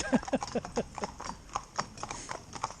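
Hooves of a four-in-hand horse team, a black horse among them, clip-clop in a steady, close rhythm of distinct beats throughout.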